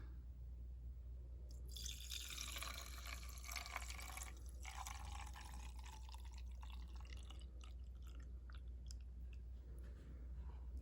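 Cleaning solution pours into the tank of a Bissell Pet Stain Eraser PowerBrush Plus carpet cleaner, a soft trickling splash that swells for a few seconds and then thins to faint drips, quiet and close.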